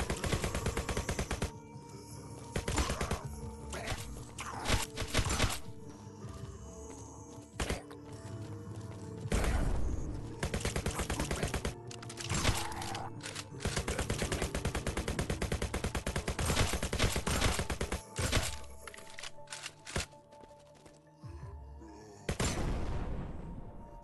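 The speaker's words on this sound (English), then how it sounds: "Assault rifle." Assault rifle gunfire in the zombie video game Dead Zone Zombies: repeated loud bursts of rapid shots separated by short pauses, close and dense, with game effects between bursts.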